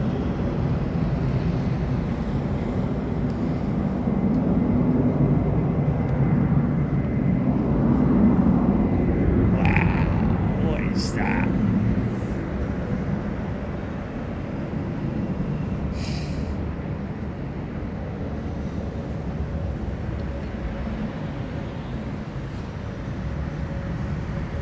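Steady low roar of an aircraft landing at London Heathrow Airport, heard from a distance as a broad rumbling wash that swells and then fades slowly, with a few faint high clicks.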